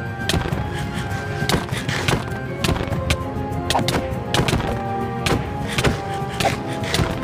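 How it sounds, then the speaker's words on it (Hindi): Irregular sharp firecracker cracks and bangs pop repeatedly at a distance outside in India, scattered through the whole stretch over a constant background hum. "वेल, अगर बाहर से नॉइस आ रही हुई तो उसे इग्नोर मार देना क्योंकि वो पटाखों की आवाज है।"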